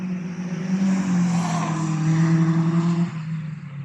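A Caterham sports car on the track straight at a Cadwell Park track day, a sustained droning engine note that swells and holds steadily as it passes, fairly loud and some distance away.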